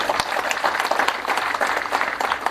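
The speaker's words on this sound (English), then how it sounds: "I think we need to applaud our teachers." Audience applause for teachers at the release of national exam results, a steady crackle of many people clapping at moderate volume, with a few distinct claps rising above the crowd.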